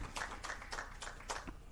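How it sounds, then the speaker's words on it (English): Audience applause at a ministerial steering committee meeting, a short burst of claps, moderately loud and fairly close, with no talking over it. "Another round of applause, please, for that."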